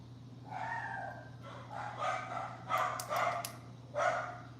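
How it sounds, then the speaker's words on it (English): Dogs bark in short bursts at a home where a live reading is under way, the yips repeating irregularly against a steady low electrical hum, fairly close but not loud. "Sorry if you can hear my dogs barking."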